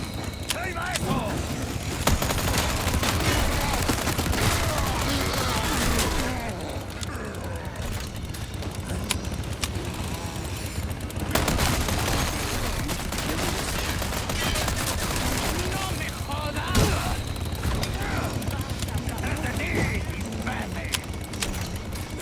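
Sustained gunfire in the Resident Evil 4 remake against tough enemies: dense, continuous bursts of shots over a loud, busy layer of game noise throughout.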